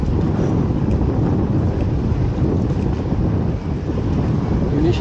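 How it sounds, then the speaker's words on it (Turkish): Strong coastal wind in Marmaris buffets the microphone in a loud, continuous low roar, steady for the whole stretch with only a brief dip near the end. "Hava öyle güzel esiyor ki daha güzel esemez herhalde"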